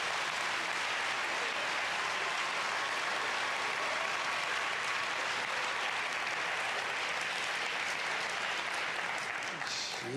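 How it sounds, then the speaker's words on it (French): A large audience claps loudly and steadily, a dense wash of applause that holds at full strength throughout without pause. "Le public applaudit et applaudit bruyamment"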